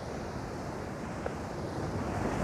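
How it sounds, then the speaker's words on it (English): Water plunging beside a waterfall gives a loud, steady broadband roar close to the microphone, with rough wind buffeting mixed in and no voices. "I'm gonna go right next to the waterfall now."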